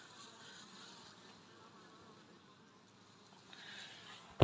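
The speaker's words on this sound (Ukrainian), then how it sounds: "Це молода бджола, отак вони прилітають." Faint, continuous buzzing of honeybees flying around, a low hum that swells slightly near the end.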